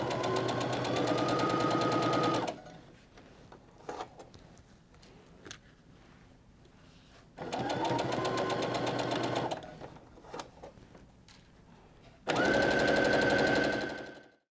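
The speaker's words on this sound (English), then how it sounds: "to stitch until I'm in the first half of that seam allowance" A sewing machine stitches a quilt seam on strip-pieced fabric in three separate runs of steady rapid whirring, each a few seconds long, with quiet pauses between filled by faint clicks and fabric handling.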